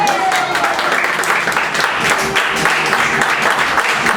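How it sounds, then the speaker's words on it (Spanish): A bar audience in A Coruña claps steadily and loudly during an improv comedy show, with applause filling the room throughout. "Ah, un aplauso para ellas."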